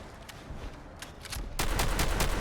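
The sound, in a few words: full-auto shotgun firing in video game Fallout 4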